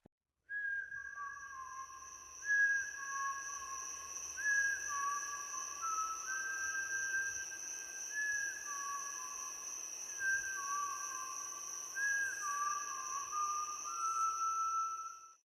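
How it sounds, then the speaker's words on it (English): A steady series of clear whistled notes forms a slow, repeating tune, stepping between two pitches over a constant high electronic hum. "I'm going to input a whistling noise, guys."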